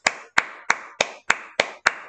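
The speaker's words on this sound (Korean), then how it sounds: "박수, 박수." Seven sharp hand claps in a steady, evenly spaced rhythm, close and crisp, with nothing else heard.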